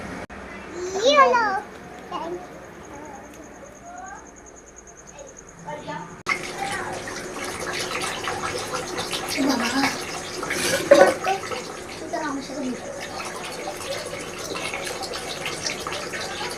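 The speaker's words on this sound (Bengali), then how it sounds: "তো এবার আমাদের জল দিয়ে ধুয়ে নিতে হবে।" Water splashes and runs while something is washed, a steady wash of sound that grows fuller and louder partway through, with a voice and other talk heard over the start.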